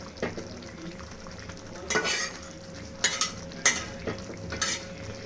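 Ghee-fried paneer is transferred and stirred into a simmering gravy, with a few sharp spoon-against-pan scrapes and clinks standing out over a low, steady sizzle, close by and without talk.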